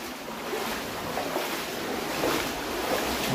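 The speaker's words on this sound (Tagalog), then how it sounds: "Malakas ang alon ngayon, malakas ang alon rock." Strong sea waves surge and wash near a rocky cave on Virgin Gorda in the British Virgin Islands, a steady broadband roar with swelling surges, fairly close and without talk.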